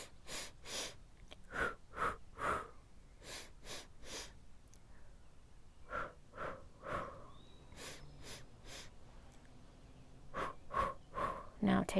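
Slow, deliberate yoga breaths taken close by during a hamstring stretch with a scarf wrapped around the foot: a series of audible, airy inhales and exhales, some sharp and nasal, repeating in an uneven rhythm.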